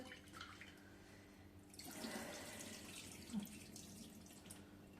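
Rice being washed under running tap water in a home kitchen, a faint steady trickle into a bowl with soft swishing and a small splash partway through.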